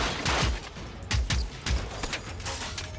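Gunfire in the video game Generation Zero, a handful of sharp shots at uneven intervals over steady ambient noise, loud and close, with no talk.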